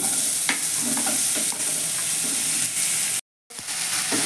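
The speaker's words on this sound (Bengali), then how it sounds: "ফোড়নটা রেডি হয়ে গেছে এবার আমি লাউটা ছেড়ে দিচ্ছি" Bottle gourd dropped into hot oil tempered with panch phoron and dried red chilli, giving a loud, close, continuous sizzle with stirring scrapes, then cutting out briefly before resuming.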